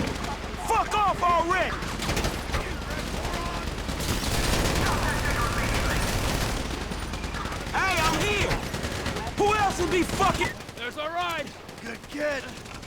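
Gunfire in Grand Theft Auto V during a bank heist with a tank nearby, sustained bursts of shots under loud, excited talking in a game soundtrack mix.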